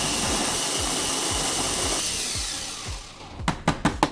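Coffee beans grind in a coffee grinder with a rough, gritty whirr and rhythmic crunching pulses, fading toward the end before a few sharp taps or knocks.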